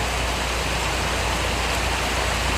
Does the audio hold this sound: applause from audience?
no